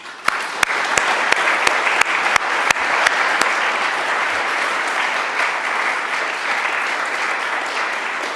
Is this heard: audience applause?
yes